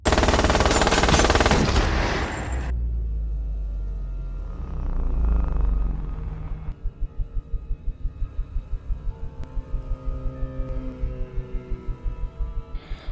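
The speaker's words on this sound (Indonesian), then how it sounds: "Bullet malah langsung memberondong H dengan Uzi yang dimilikinya." An Uzi submachine gun sprays rapid, evenly spaced bursts in a crime thriller, loud and close, after a stretch of heavy rumbling action noise.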